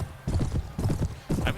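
Horse hooves clip-clop in a Mount & Blade battle (Prophesy of Pendor mod): three close bursts of rapid, rhythmic hoofbeats, fairly loud and with no talk over them.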